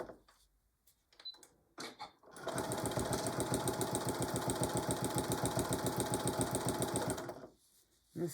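A sewing machine stitches a folded potholder with a pocket in one steady, fast run of needle clatter lasting about five seconds, close and loud, with quiet handling sounds before and after.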